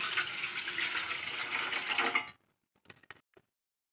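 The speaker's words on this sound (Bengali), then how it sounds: "পাত্রের মধ্যে পরিমাণ মতো জল দিয়ে দিচ্ছি" Water is poured into a pot on an induction hob as a steady, close trickling splash for about two seconds. It then stops abruptly, followed by a few soft clinks and knocks.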